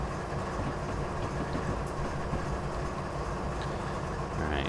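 Freight locomotive hauling from Plum Creek Plywood on Marias Pass in a train simulator game, a steady low rumbling engine drone with faint rolling clatter, continuous and close, no voices.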